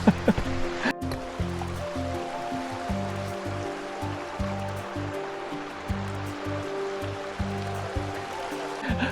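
A small river flows beside a dense jungle trail near Kotkhai in Himachal, making a steady, close rush of running water that fills the whole stretch with only faint sounds around it.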